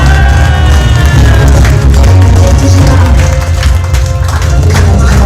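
An audience at an awards ceremony final claps loudly and energetically, dense sustained applause layered over loud booming music in a large hall.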